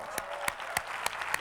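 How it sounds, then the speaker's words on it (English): An audience at a 1996 James Dentley event applauds, heard as a soft, sustained patter with a few sharper claps standing out at regular intervals, some way off. "Give Ron a round of applause."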